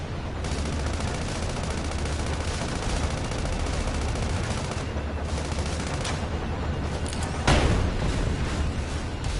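Sustained gunfire in the video game Sand Land, a continuous rattle of rapid shots layered over rumbling battle noise, with one louder blast standing out near the end.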